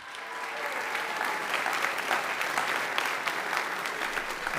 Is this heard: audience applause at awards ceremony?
yes